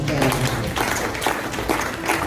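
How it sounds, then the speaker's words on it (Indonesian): Dense, steady applause from a crowd at a business seminar, filling the whole moment at an even level with no voices over it. "Berikan tepuk tangan."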